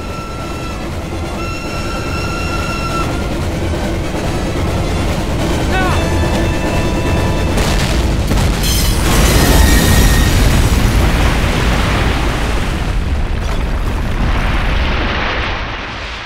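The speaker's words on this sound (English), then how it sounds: "Detonate on my command." A train bridge is detonated in a Call of Duty mission: a heavy rumbling train gives way to a massive, roaring explosion that swells and lingers loudly before fading.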